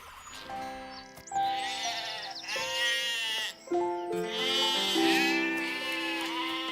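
Sheep bleating in a series of loud, drawn-out, quavering calls that overlap one another, with a short break partway through; no one speaks over them.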